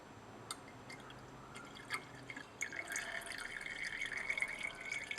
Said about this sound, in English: And then decant the liquid again.